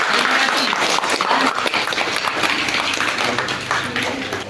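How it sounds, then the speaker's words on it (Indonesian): Classroom audience applauding group 2 after a presentation, a loud, dense burst of many hands clapping close by that fades slightly toward the end. "tepuk tangan untuk kelompok 2"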